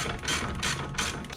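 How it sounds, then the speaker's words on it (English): On a Tesla Model 3, a 21 mm wrench and socket work a bolt loose, giving three quick, close ratcheting bursts in a row. "A 21 millimeter wrench and a 21 millimeter socket, and at the bottom, we're going to break that loose."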